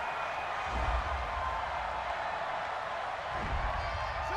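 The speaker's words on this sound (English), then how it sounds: "Some boos coming down right now from this home crowd after that call" A home crowd at an NFL wild card playoff game between the New York Giants and New Orleans Saints boos a pass interference call, a dense, sustained roar of many voices filling the stadium at steady loudness.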